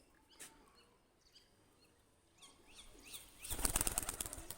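A brief burst of wings flapping as a pigeon takes off, loud and close, after a few soft rustles and scattered faint bird sounds.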